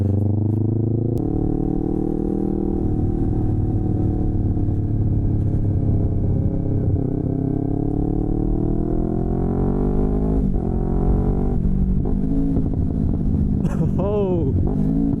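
Rebuilt Yamaha R3 motorcycle ridden on the road, engine droning steadily with shifting revs throughout and a few sharp exhaust pops near the end, heard loud and close under wind noise.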